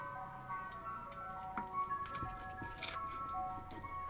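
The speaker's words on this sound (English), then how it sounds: "Ice cream truck." Ice cream truck jingle from the video game Days Gone, a faint tinkling melody playing at a distance, with thuds and ambient game noise around it.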